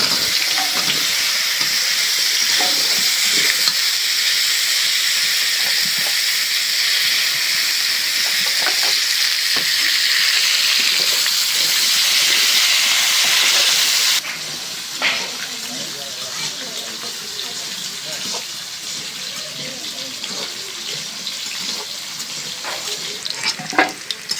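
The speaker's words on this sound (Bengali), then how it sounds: "এখন ভাইজা নিব আলু" Potatoes fry in a pan with a loud, steady hiss that runs unbroken for about fourteen seconds, then drops to a softer sizzle with scattered scraping and clatter of stirring.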